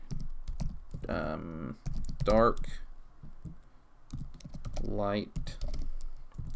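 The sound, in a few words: typing on a computer keyboard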